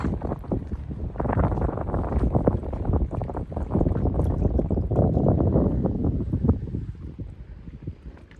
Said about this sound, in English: The wind keeps picking up and dying off.